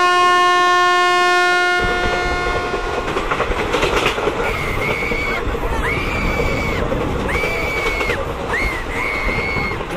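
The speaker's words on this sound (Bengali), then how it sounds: "ট্রেন এলো তাদের সামনে দিয়ে।" An up train on the Lakshmikantapur line sounds a loud, sustained horn blast, then thunders past close by with heavy rumbling, rhythmic wheel clatter and repeated high squeals of wheels on rail.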